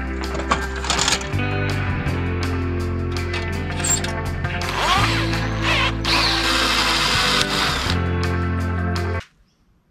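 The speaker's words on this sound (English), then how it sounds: "it's broken from our drill bit" A power drill whirs steadily and loudly for nearly ten seconds, its pitch rising and dipping as it bites into an LED light tube, then cuts off abruptly.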